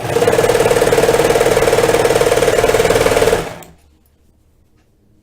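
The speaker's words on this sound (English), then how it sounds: "I really don't trust the serger in a high stress point right there" A serger overlock sewing machine stitching a sweater runs loud and close with a rapid, even mechanical chatter for about three seconds, then spins down and stops, leaving near silence.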